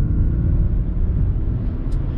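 A rear-wheel-drive 2021 Ford Mach-E electric car accelerates with a low, steady rumble of road and motor noise from inside the cabin, even and unbroken throughout.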